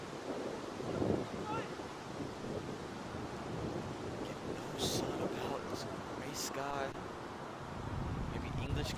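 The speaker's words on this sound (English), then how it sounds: "Conditions with the wind." Wind gusting across an outdoor cricket ground during a Raiders vs Sunrisers match in Morrisville, a steady rough rumble of buffeting against the microphone, with brief higher bursts of crowd or field noise over it.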